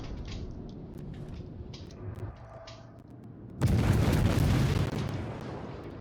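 Heavy naval gunfire from an enemy battleship in a World of Warships-style naval battle game, with a single loud broadband blast arriving about midway and rolling on before slowly fading beneath a low engine rumble.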